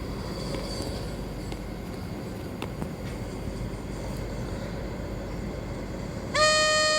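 A train rolls past a railway crossing with a steady low rumble of wheels on track, then a loud horn blast sounds near the end.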